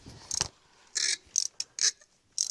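A ratchet with a 5/8 spark plug socket turns a spark plug on a 2015 GMC Terrain 2.4L engine, giving short, separate clicking bursts at close range with quiet gaps between them.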